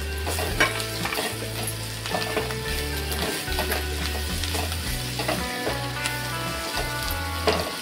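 Leafy takla greens stir-fried in a pan with salt added, sizzling steadily with repeated scraping stir strokes and a low background hum throughout, fairly loud and with no one talking.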